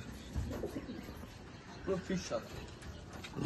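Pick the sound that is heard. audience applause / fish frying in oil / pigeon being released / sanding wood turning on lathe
pigeon being released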